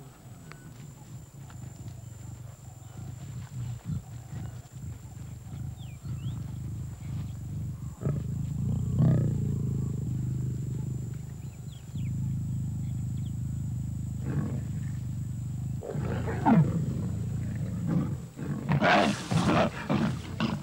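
Lions fighting over a lioness, with low growls and rumbling roars building through the middle and a sharper snarling burst near the end, mixed with scuffling and padding footsteps at moderate distance.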